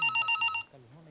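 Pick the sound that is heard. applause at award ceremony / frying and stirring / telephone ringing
telephone ringing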